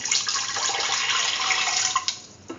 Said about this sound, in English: Now pour in 200 ml of water.